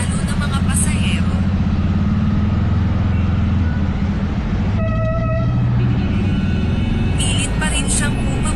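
A vehicle horn blares once in road traffic, a short, loud honk midway through, over steady engine and road noise, with a voice talking throughout.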